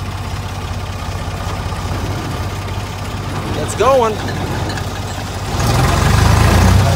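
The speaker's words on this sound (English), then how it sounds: "the first time I've ever kicked this baler on with this tractor" Tractor engine running steadily with an alfalfa hay baler engaged, a constant low droning hum throughout that grows louder and heavier near the end, with a brief voice speaking over it partway through.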